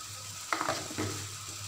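Tomatoes with salt and spices cooking in oil in a pan, giving a steady soft sizzle with a couple of scraping stirs near the middle, no voices.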